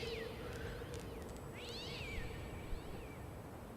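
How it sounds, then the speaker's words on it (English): A strange, cat-like creature call from the adventure game Secret Files: Tunguska, heard as a few rising and falling whining sweeps over steady background ambience, fairly quiet and with no talking. "That's a weird noise. It's like a cat,"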